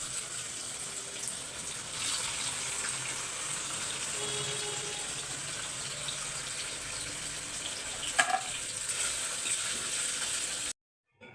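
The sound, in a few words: paneer frying in a pan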